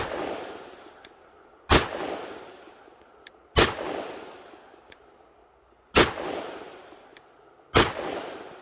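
Four sharp, loud pistol shots from a custom Sig P320 chambered in .357 SIG, spaced irregularly over several seconds, each with a short echoing decay and faint metallic ticks between them; no talking.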